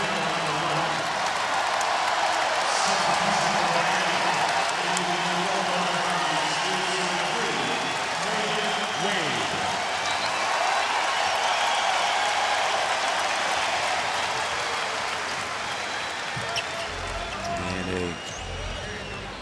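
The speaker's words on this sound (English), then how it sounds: "Great round of applause from the fans here in Toronto" Crowd of basketball fans in a Toronto arena applauding, a broad sustained roar of clapping and cheering under continuous commentary, with sneaker squeaks and ball bounces near the end.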